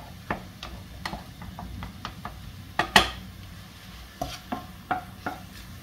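Salted mushrooms are stirred in a pan with a utensil, giving scattered clicks and scrapes against the pan over a faint sizzle, close up with no voices.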